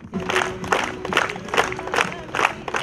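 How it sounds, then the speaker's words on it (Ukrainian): A crowd in Konotop, Ukraine, claps continuously for returning soldiers at a celebration, a dense patter of applause with voices mixed in throughout. "Конотопці своїх героїв вітали неперервними оплесками."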